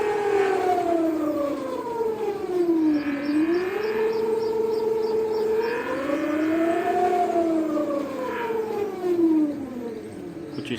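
An Ola S1 Pro electric scooter under throttle gives off a steady electronic whine that rises and falls in pitch with speed, loud and close, with no talk.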